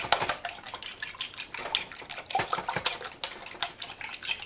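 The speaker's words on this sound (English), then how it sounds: "I just like to mix up my eggs" Eggs, eight large ones, are whisked by hand in a bowl for a lemon pound cake, with quick rhythmic clinking strokes against the bowl, close and clear with no talk.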